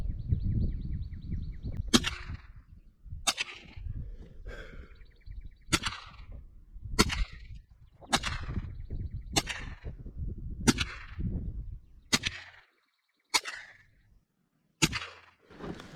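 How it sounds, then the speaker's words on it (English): Super Aguila 38 grain .22 LR rounds fired from a rifle at an outdoor target: about ten sharp, close cracks spaced roughly one to one and a half seconds apart, each followed by a brief echo, with no talk. "I'm going to shoot the target right under where we shot the regular pack"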